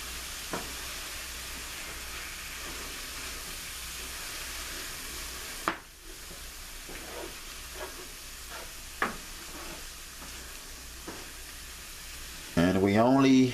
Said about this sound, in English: you're just going to stir this all in